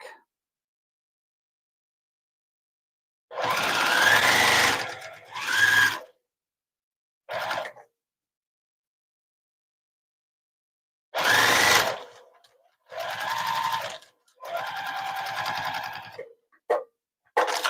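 A sewing machine stitches quilt fabric at a quilting bee, running in short, close bursts of whirring separated by silent pauses, with a few very brief final taps.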